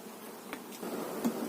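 Honeybees buzzing around an open hive while frames are moved between a Dadant and a Hoffmann-frame hive, a steady low drone with a few brief closer passes.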